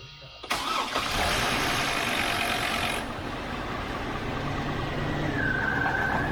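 A GM car engine with a repaired manifold cranks and catches abruptly, then settles into a loud, steady idle that eases slightly after a few seconds. A faint high whine enters near the end.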